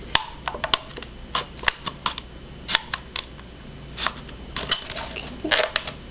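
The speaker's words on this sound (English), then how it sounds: "using scissors to cut it out the rest of the way" Scissors making a series of quick, irregular snips through a plastic cup while building a bird feeder, each cut a sharp close click with short pauses between.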